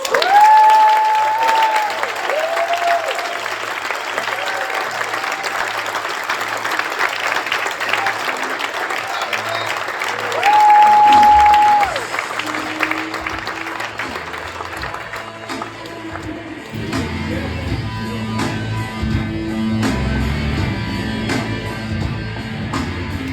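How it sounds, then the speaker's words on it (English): Warm, steady applause rolls through a gala audience at a Legacy Supporter Award presentation, dense clapping sustained for about fifteen seconds with a brief whistle, then fading as a speaker begins talking. "Please join me in offering them a hearty round of applause"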